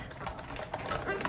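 Quiet, rapid key clicks from typing on a ProtoArc backlit split ergonomic wireless keyboard, a soft, irregular patter of keystrokes close by in a calm room.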